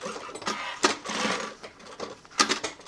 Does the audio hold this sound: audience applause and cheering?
no